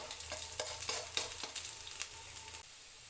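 Finely chopped garlic fries in hot oil, giving a soft, steady sizzle with a few quick scraping stir strokes, fairly quiet and close, with no talk.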